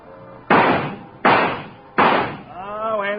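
Three sharp shots from a shooting-gallery rifle in a 1952 radio drama crack out at an even pace, each with a short knocking echo as targets fall, and a voice starts up after the last.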